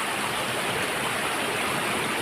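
River water rushes over stones at dusk, a steady, even broadband flow that fills the scene without pause or voices.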